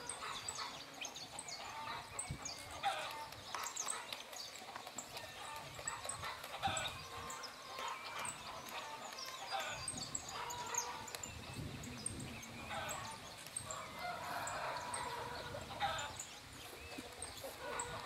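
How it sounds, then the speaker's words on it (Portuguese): Guinea fowl drinking water on a rural Brazilian farm, a dense continuous chatter of chirps and clucks from the flock over outdoor background noise, moderately distant and steady throughout. "As galinhas da Angola bebendo água."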